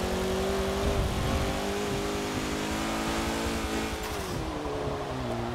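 Fiat 124 Spider Abarth racing in heavy rain in Forza Motorsport, its engine droning steadily and loud with shifting revs as tyres hiss over the wet track, continuous throughout.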